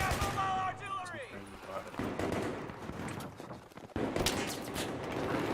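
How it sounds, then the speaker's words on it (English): Mobile artillery and gunfire in the Battlefield 3 game on PS3, scattered sharp blasts and rumbling bursts at moderate level, with a pitched whine sweeping down early and a heavier hit near the end. "They got mobile artillery!"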